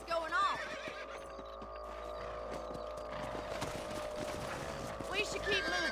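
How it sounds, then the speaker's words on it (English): Horses in the Red Dead Redemption video game set in 1911, with neighing and clip-clop hoofbeats under a steady ambient game backdrop, faint and moderately distant, with voices talking briefly. "Let's get back on the horses and see what else is going on."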